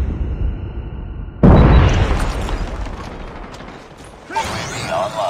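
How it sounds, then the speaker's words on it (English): A sentry gun blows up in Call of Duty Mobile with a loud, close boom that rolls into a long rumbling decay, followed by a second burst near the end. Low game announcer speech runs faintly underneath. "Hostiles have destroyed your sentry gun."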